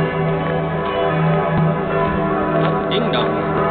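Church bells ring out over Salzburg on a still Christmas night, a dense, sustained wash of overlapping peals with steady loudness throughout, heard from a distance across the city.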